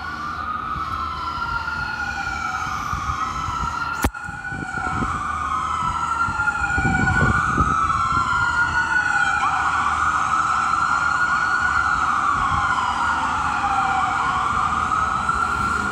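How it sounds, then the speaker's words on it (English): A Houston Fire ambulance siren wails in repeated rising and falling sweeps, loud and steady throughout, with a sharp knock partway through and a low engine rumble underneath. "Houston Fire. That's what it's, an ambulance."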